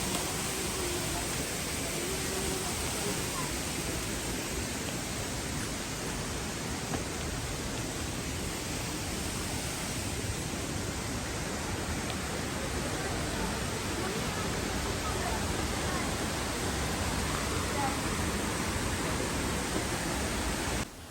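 Steady broadband rush of a small waterfall in Cornwall, continuous and even, heard alone without voices.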